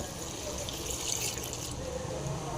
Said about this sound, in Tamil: தண்ணி எவ்வளோ வேணுமோ அதில் ஊற்றிங்க